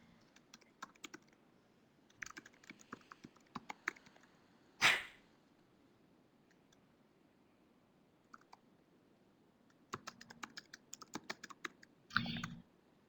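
Computer keyboard typing in scattered bursts of light clicks, with long quiet gaps between runs and one sharp louder sound partway through plus another noise near the end.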